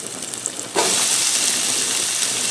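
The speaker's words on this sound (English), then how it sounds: "Oh, I love that sizzle." Onions hit hot olive oil with garlic in a pan while cooking lasagna. After a quiet moment, a loud sizzle bursts in and settles into a steady, bright frying hiss close to the pan.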